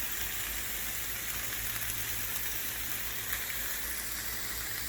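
Onions sizzling in a hot pan for a mutton and pork burger, a dense, steady crackling hiss that stays loud and close throughout, with no voices.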